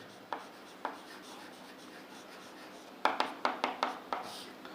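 Chalk or a marker taps and strokes on a board during a lecture, with a couple of isolated marks and then a quick run of short taps near the end, faint and close in a quiet room with no speech.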